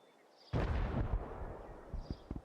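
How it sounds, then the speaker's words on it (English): A single heavy boom of distant gunfire rolls out in the shooter game Arena Breakout: Infinite, followed by a few faint, muffled pops. "there's some gunfire up in the distance"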